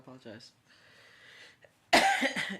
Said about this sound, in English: I have to cough this shit up.